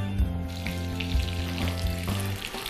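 Pieces of lamb saddle fry in a pan with a steady, loud sizzle and crackle, accompanied by a low hum, with no talk.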